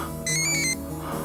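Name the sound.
mobile phone ringing in an alley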